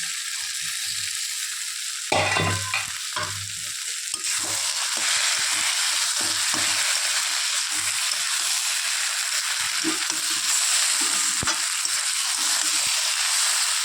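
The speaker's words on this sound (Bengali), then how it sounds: "এখন এই চিংড়ি মাছটা এর মধ্যে দিয়ে দিচ্ছি।" Prawns sizzle and fry in a bottle gourd curry, with a steady close hiss throughout and occasional stirring scrapes, no talking.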